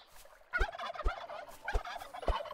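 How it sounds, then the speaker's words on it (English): A turkey gobbles in the Travellers Rest video game, four sharp rattling gobbles in an uneven rhythm, close and clear with no talk over them. "Whoa, turkey."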